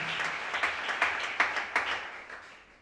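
A church congregation applauding at a Sunday service, a steady wash of clapping hands with several sharper individual claps standing out, fading toward the end.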